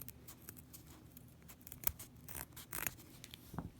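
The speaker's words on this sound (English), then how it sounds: "So I'll cut with about 1/4 of an inch next to where I did my stitching." Scissors snipping through fabric about a quarter inch from a sewn seam, a quiet series of close, crisp cuts and rustles at an irregular pace.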